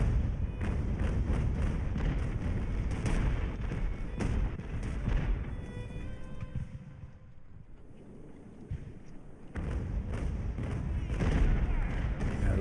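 Ship cannon fire from a naval battle in the age-of-sail game Ultimate Admiral: Age of Sail, repeated booming thuds rolling over a wind-and-water bed, dipping into a quieter lull midway before another dense run of blasts.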